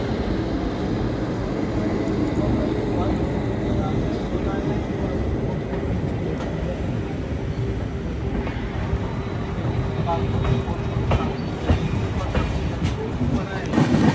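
Goa Express train bound for Vasco running steadily, a continuous low rumble of wheels and carriage noise filling the whole stretch at close range, with faint voices mixed into the din.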